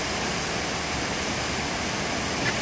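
Waterfalls pour into the SeaWorld orca pool, making a steady, dense roar of falling water that holds even and loud throughout, with no voices over it.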